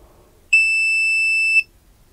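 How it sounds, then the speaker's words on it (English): An Owon CM2100B clamp meter sounds a single steady continuity beep that lasts about a second. The tone is loud, clean and close, with near silence on either side. "For the continuity test, I'm expecting the unit to beep under the 50 ohms."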